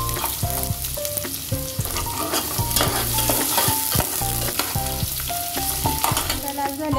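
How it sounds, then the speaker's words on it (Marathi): Chopped onion sizzles steadily in hot oil while being stirred, with close, loud frying crackle and frequent scraping and clinking of the spoon against the pan throughout, no voices. "कांदाही चांगला तेलावर परतून लाल होईपर्यंत परतून घेणार आहोत।"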